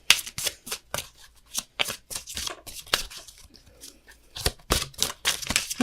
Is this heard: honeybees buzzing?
no